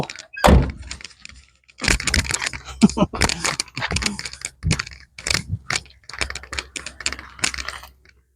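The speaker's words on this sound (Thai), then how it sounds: "ปิดประตู" A small excavator's cab door swings shut with a sharp, close thunk on a farm trailer. Several irregular clattering knocks and rattles follow in quick bursts, with no talking.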